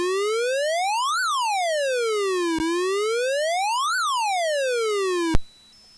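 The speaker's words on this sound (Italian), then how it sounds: "Per ottenere l'effetto della sirena bisogna modificare rapidamente il valore dell'altezza del" A synthesized siren tone from an Atari computer sweeps smoothly up and down in pitch twice, pure and synthetic, then cuts off abruptly into quiet.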